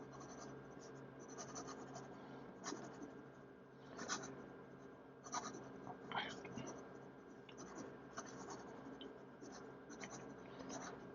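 A Visconti Ragtime fountain pen scribbles rapidly across paper in quick scratchy strokes, faint and close, under soft low speech.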